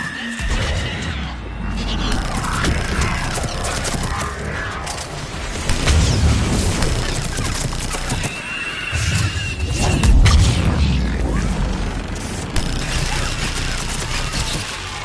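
Missile strike explosions in the sci-fi shooter Mass Effect 3, a dense battle din of repeated heavy booms and crashes with low rumbling surges, loud and continuous, with gunfire and mechanical clatter layered throughout.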